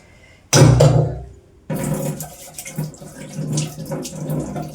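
Water gushes from a kitchen tap while a bowl is rinsed clean, a loud burst of flow that stops briefly and then resumes as a steadier splashing stream, with no talking.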